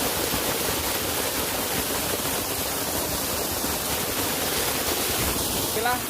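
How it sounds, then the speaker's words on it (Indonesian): Small roughly 20-meter waterfall beside the parking area of Blemantung waterfall, a constant broad rushing roar of falling water filling the whole stretch, steady and fairly close. "Inilah air terjun mini yang berada di areal parkir dari air terjun Blemantung"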